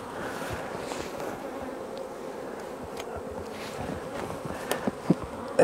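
Honey bees from a queenless hive buzz steadily nearby, with a few sharper close passes near the end.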